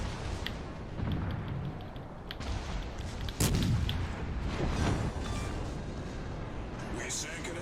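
The front gun turrets of the warship HMS Albemarle fire in World of Warships Legends, a couple of deep booming salvos with rumbling tails under someone talking over the battle noise.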